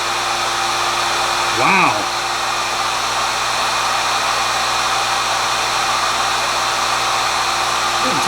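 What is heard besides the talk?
heat gun blowing hot air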